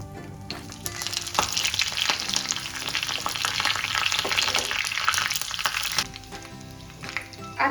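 Curry leaves crackling and sizzling in hot oil with mustard seeds and a little cumin while tempering for a radish salad, a loud steady spitting fry with sharp pops, easing slightly near the end.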